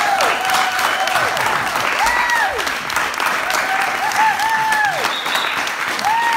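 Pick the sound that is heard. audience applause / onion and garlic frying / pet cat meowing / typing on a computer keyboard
audience applause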